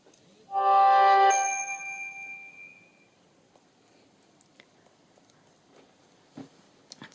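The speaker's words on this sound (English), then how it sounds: "That's my phone." A single phone notification ding rings out clearly with a short ringing tail, followed by faint scattered taps and rustles in a quiet room.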